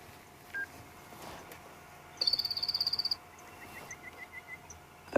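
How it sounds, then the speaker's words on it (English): Black cuckoo-shrike call played back outdoors on a safari, a rapid trill of about a dozen evenly spaced high notes lasting roughly a second, over faint background insects and frogs. "That's the call of the black cuckoo shrike."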